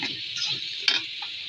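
Spice paste frying with a little water in a pan, a soft steady sizzle up close, broken by a few light scrapes and one sharp tap of a spoon against the pan.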